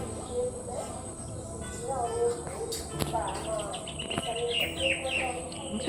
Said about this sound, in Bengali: পাখির আওয়াজ কত সুন্দর লাগে শুনতে